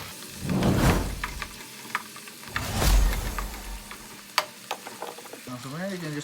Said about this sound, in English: Throw your onions in the pan because it will splatter.